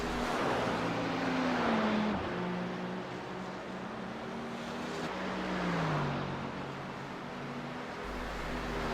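A BMW GT3 race car in a racing sim game, its engine note climbing and dropping through gear changes as it laps, loud and steady throughout with other car engines droning underneath.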